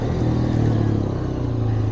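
Hero Xpulse 421cc motorcycle engine running steadily with a loud, close, continuous mid-pitched drone as the rider downshifts, a slight rise in revs partway through and no talk over it.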